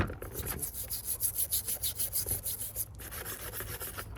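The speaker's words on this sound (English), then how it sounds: "I'm just gonna try to get the rest of this grease off of here." Rhythmic back-and-forth rubbing on an antique Reed vise, using a little gasoline to scrub off old grease, quick regular scrubbing strokes close up, a brief pause, then steadier rubbing outdoors.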